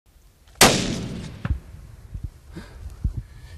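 A single loud rifle shot cracks out during a mule deer hunt, followed by a rolling boom that fades slowly outdoors, then a few faint handling knocks.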